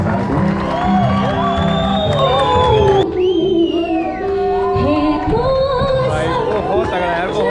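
A large crowd at a live musical night concert in Haldwani in 2022 cheers loudly, with shrill whoops, shouts and chatter rising and falling throughout, and only faint clapping.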